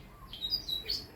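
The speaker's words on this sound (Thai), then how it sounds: "เสียงนกร้อง" A few high, thin bird chirps sound in quick succession, faint and somewhat distant over soft background noise.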